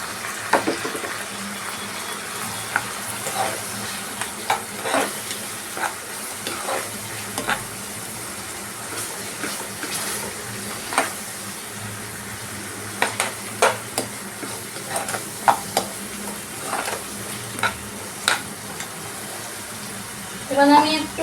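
Raw papaya curry sautés in a pan, with a continuous, fairly quiet sizzle and frequent stirring scrapes and clicks through most of it, and a voice speaking near the end.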